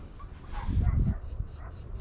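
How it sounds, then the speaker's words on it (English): A large pack of dogs, about fifty, barks and yips in the distance on a cold, windy day near a shop, faint and muffled under a low wind rumble. "Y'all hear them dogs in the background? They got about 50 over there for some reason."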